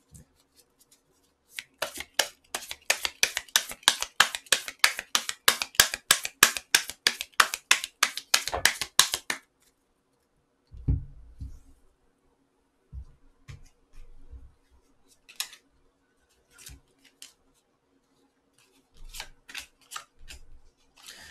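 Tarot cards are riffled in a rapid, crisp run of flicking snaps lasting several seconds, followed by quieter, scattered taps and slides as cards are drawn and laid down.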